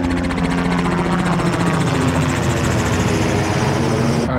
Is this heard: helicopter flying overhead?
yes